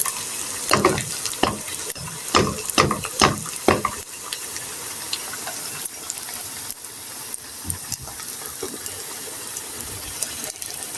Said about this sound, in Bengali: এভাবে আমি নাস্তাগুলি সবগুলি ভেজে নিব